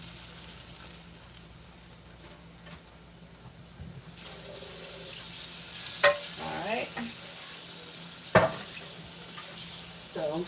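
Tap water runs softly in a home kitchen sink as something is rinsed before cooking, with a faint steady hiss and a few small clinks and knocks.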